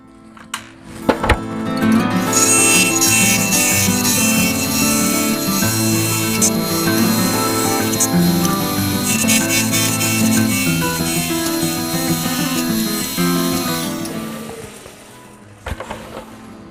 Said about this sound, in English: I'm just going to round it over with a spindle roughing gouge